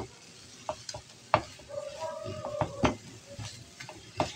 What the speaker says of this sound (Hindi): अब आपने सब चीज़ों को इसमें मिक्स कर लेना है अच्छी तरीके से